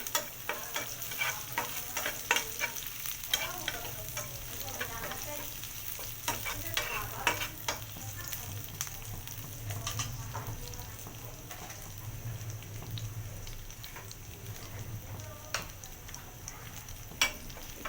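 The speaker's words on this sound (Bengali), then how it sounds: "একটু ভালো করে ভেজে নিচ্ছি" Garlic fries in a pan for chilli chicken as a utensil stirs it repeatedly; a fairly quiet, steady sizzle carries frequent scraping strokes.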